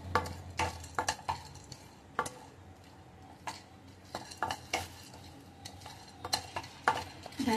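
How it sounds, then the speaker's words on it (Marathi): Pre-roasted chana dal is stirred in a pan over a low gas flame, a spoon scraping and clinking against the metal in irregular strokes, with faint background ticking and a soft sizzle, close but quiet. "ते सुद्धा स्लो गॅसवर भाजून घ्यायचे"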